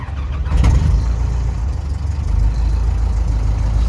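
An AVserv 200E engine turns over and catches, with a short rattling crank followed by a steady, loud, low rumble that holds on close by.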